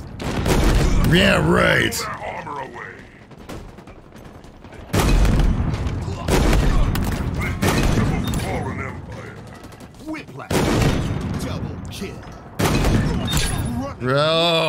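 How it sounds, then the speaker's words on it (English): A tank gun in Halo Infinite multiplayer fires in heavy booming blasts with mechanical clanks and creaks between them. Loud reports recur several times while someone talks over the game noise. "you can now use that tank gun in the multiplayer of Halo Infinite"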